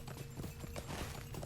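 Horse hooves clip-clop in a quick steady rhythm while riding a mount in Lord of the Rings Online, close and fairly soft, with no talking.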